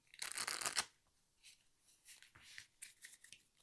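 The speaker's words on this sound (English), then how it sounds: "That requires me to quickly shuffle the cards." Playing cards being shuffled quickly for a tabletop game, a close, quiet burst of riffling followed by softer scattered flicks and slides of the deck.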